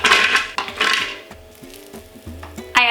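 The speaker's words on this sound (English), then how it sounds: "To the blender I'm adding the walnuts" Walnuts poured into a blender rattle and clatter against the jar in two bright bursts, followed by quieter scattered clicks and a short final rush of pieces.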